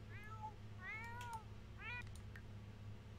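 Cartoonish cat in The Sims 4 video game meowing three times in quick succession, each meow rising then falling, clear and close over a steady low game hum.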